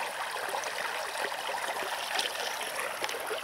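A gold-bearing mountain stream in the taiga forest, flowing as a steady, close, bright rush and babble of water with no pauses.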